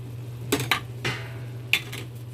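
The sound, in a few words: stirring curry powder into mushrooms in a pot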